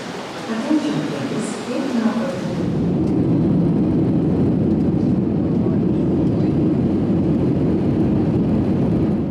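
Steady aircraft engine roar fills an airport in Saint Petersburg, rising after a quieter opening and holding loud and constant, with faint traces of other noise early on.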